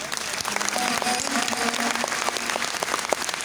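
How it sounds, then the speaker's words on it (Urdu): An audience at a school's annual function applauds steadily, dense continuous clapping from many hands filling the hall at even loudness throughout. "یا تالیاں بجا دیو ان کے لیے بھی"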